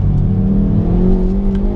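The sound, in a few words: turbocharged hot hatch engine revving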